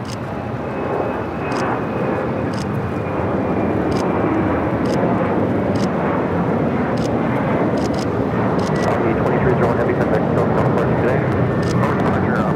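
An Omni Air plane at Los Angeles International Airport gives a steady, loud jet roar that holds for the whole stretch, with faint sharp clicks now and then above it.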